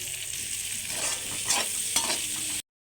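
Potatoes fry in hot oil, frying them to a deep red, with a steady bright sizzle broken by a few stirring scrapes before the sound cuts off abruptly.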